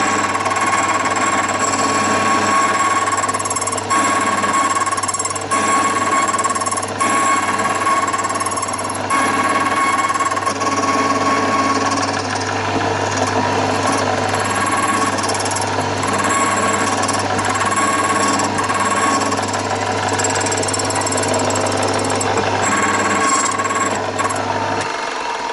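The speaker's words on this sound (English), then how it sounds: "Let the cutting wheel do its job, and don't rush it" A key machine's cutting wheel grinds steadily against a key blank with a constant motor hum and a whining, scraping edge. The sound runs loud and unbroken, with slight pulsing variations as the cut progresses.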